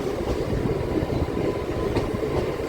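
A Singareni MEMU train rolls along as it arrives at platform 2, with a continuous rumble and rhythmic clattering of wheels, loud and close.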